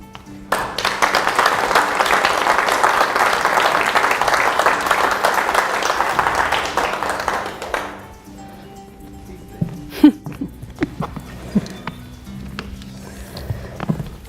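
A studio audience on the talk show The Point TV applauds loudly and steadily for about seven seconds to welcome guest Brett O'Connor, then the clapping cuts off and scattered faint knocks and movement follow.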